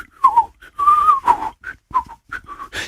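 A person whistles a short, jaunty tune in quick broken phrases, close to the microphone, with brief pauses between notes.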